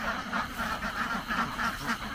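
A flock of ducks on a duck farm in the Mekong Delta quack in a dense, continuous chorus of overlapping nasal calls, moderately loud and close, with no speech.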